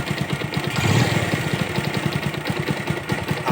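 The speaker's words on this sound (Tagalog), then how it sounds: "Ito yung andar niya hanggang ngayon. Paandarin natin ha." A Bajaj Rouser 180 motorcycle idles close by, its engine running rough and loud with a fast, uneven chug; the bike has a fault that makes it noisy and lose power despite many replaced parts.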